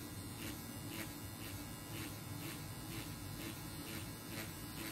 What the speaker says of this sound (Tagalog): So this is the most affordable tattoo machine in the market.